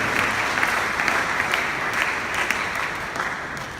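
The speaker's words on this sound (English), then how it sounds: "Can we give them a big round of applause" Loud, dense crowd applause at a youth empowerment programme, a continuous wash of clapping from a seated audience, steady and unbroken with no talk over it.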